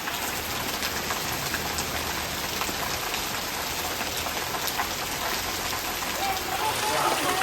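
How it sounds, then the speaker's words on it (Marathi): Heavy continuous rain pours steadily and loudly outdoors in rural Konkan, a dense unbroken hiss for the whole stretch with no pauses. "खतरनाक पाऊस लागतोय बघा, कंटिन्यू पाऊस चालू असा"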